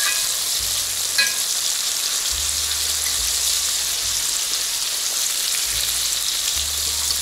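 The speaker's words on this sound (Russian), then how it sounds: "Прямо на большом огне сейчас жарит." Fish fries in a pan over high heat, giving a loud, steady close-up sizzle and crackle throughout with no talking.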